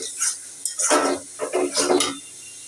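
Potatoes are tipped into a pan of fried spices, giving a close, short burst of clattering and scraping against the metal pan with a soft sizzle, no voices.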